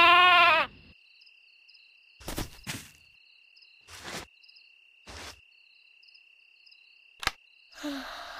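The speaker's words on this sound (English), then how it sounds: "Good night, dear sheep." A sheep at a farmhouse at night gives one short, clear bleat at the start. Steady cricket chirping and a few sharp clicks and soft rustles follow.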